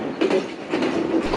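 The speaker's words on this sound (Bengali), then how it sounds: "আমার কাছে কিন্তু ট্রেনের এই ঠক ঠক আওয়াজটা বেশ চমৎকার লাগে" Rupsha Express pulling out of Khulna station, rhythmic clickety-clack of wheels over rail joints in a few quick knocking beats close by, with a faint whine riding above.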